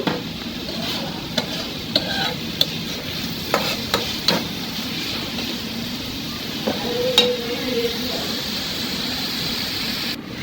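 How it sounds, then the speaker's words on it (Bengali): Spice paste stir-fried in oil in a pan for a dried fish (sidal shutki) curry, with a steady low sizzle under scattered scraping stir strokes of the spoon, close and moderate in level. "আর মশলাটাকে ভালো করে কষিয়ে নেবে"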